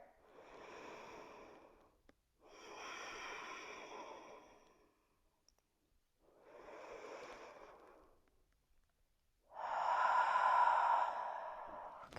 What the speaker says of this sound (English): Just taking some deep breaths here.